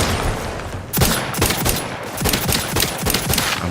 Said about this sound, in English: So this gun will one-shot the wasps.